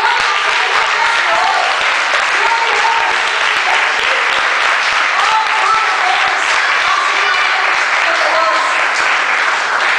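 A church congregation applauds loudly and continuously in a full, reverberant room, with scattered voices and faint cheers mixed into the clapping.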